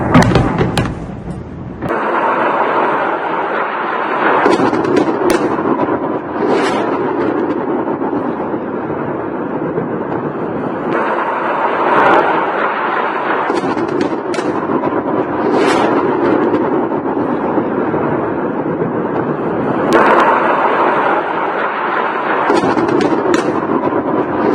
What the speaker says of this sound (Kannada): ಏಕಕಾಲಕ್ಕೆ ಲೆಬನಾನ್ ಸೇತುವೆ ಉದ್ದಕ್ಕೂ ಕೂಡ ಸರಣಿ ಬಾಂಬ್ಗಳ ಸ್ಫೋಟ ಸಂಭವಿಸಿದೆ